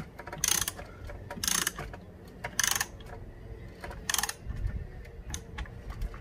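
Ratcheting wrench tightening a bolt during a car PA system install in a Suzuki Swift, with short bursts of quick clicking repeated several times, close and distinct.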